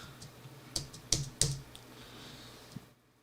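Several sharp keystrokes clatter on a computer keyboard, a handful of distinct taps spaced unevenly over a few seconds, close and fairly quiet with no talking.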